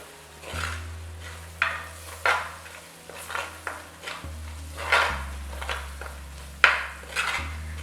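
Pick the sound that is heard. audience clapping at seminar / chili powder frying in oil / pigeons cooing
chili powder frying in oil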